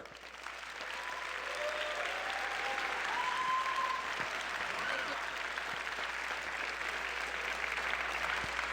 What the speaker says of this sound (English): Let's thank them with a loud round of applause for all of their hard work.